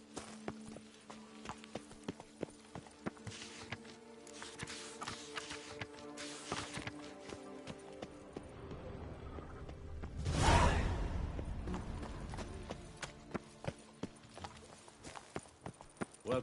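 Horse hooves of Roach in The Witcher video game, a steady clip-clop of walking steps throughout, with a brief whoosh sweeping through the middle.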